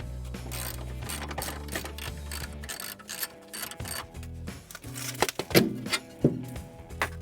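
A wrench works the lower strut bolts on a car being stripped for parts: irregular metallic clicks and ratcheting ticks, some sharper clanks toward the end, close and fairly quiet with no talking.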